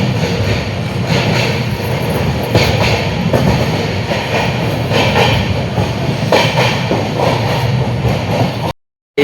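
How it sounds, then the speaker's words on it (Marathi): Passenger train running on the tracks on a trip toward the Konkan coast, a steady loud rumble with repeated rhythmic clacks heard from inside a carriage, no talk, ending abruptly. "आता आपली ट्रेन मस्त वगैरे निघाली आहे"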